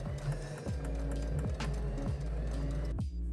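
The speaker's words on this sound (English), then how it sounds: "we're going to go back to our sewing machine and we're going to stitch that again" A sewing machine stitching a thrifted garment, running steadily with a regular rhythmic thump about every half second, close and fairly loud, ending in a short pause.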